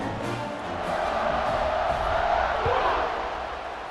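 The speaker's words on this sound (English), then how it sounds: "this crowd is buzzing after that last score" Stadium crowd in the College Football 26 video game, Florida International vs. Penn State, buzzing and roaring after a score: a steady, swelling wall of cheering for four seconds with no commentary over it.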